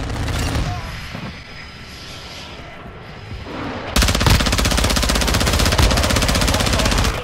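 Call of Duty Modern Warfare 2 multiplayer combat, rapid machine-gun fire that turns into a loud continuous stream of shots over a background roar of aircraft noise.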